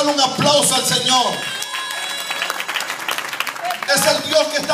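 A church congregation claps and cheers loudly, the applause swelling at the start and again near the end, with voices mixed in throughout.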